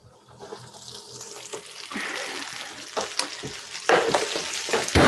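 Salmon frying in a pan on the stove top, a sizzle that starts faint and swells louder, with stirring and clattering noises.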